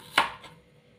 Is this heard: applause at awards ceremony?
no